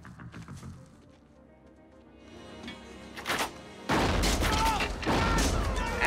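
Gunfire from the final shootout of the 1997 film L.A. Confidential, bursts of shots and booms breaking out after a quieter musical passage, loud and dense in the second half.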